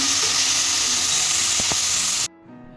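Mutton bones sizzling loudly in a hot pot for bone soup, a dense steady frying hiss up close with faint stirring scrapes, cutting off abruptly near the end to a quieter background.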